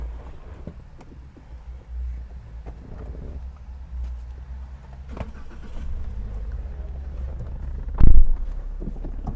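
A 2018 Toyota Rush TRD S with a manual gearbox pulls away and drives, its steady low engine and road rumble continuing throughout, with a sharp thump near the end.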